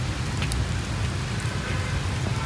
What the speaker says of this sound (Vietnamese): Đúng là cơn mưa bất chợt.